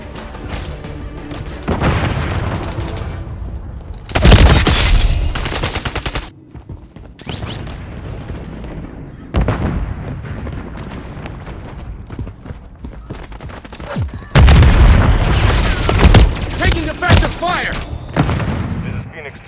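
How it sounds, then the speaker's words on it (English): Precision airstrike explosions and gunfire in Call of Duty Modern Warfare III: heavy booming blasts in two loud bursts amid scattered rattling gunshots, with game radio chatter and battle noise between them. "Precision airstrike standing by."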